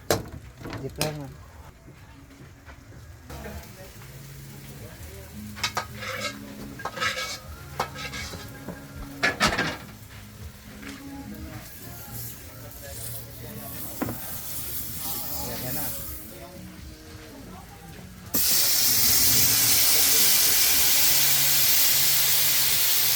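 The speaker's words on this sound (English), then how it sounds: "This is sizzling gambas." Loud, steady sizzling of gambas shrimp on a hot pan, joined late by a stronger hiss, with talking and clinks through the first part.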